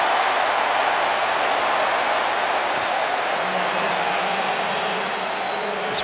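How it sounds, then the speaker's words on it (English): A packed football stadium crowd at the Orange Bowl, Wisconsin versus Miami, roars in a dense, continuous wash of cheering that stays loud and steady throughout. "This crowd is into the game"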